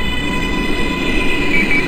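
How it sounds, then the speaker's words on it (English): A Brooklyn-bound Q Express subway train runs steadily, a loud continuous rumble with a high tonal whine held throughout and no talking. "This is a Brooklyn-bound Q Express train."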